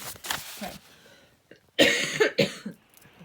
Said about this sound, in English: Got a bit of a cough.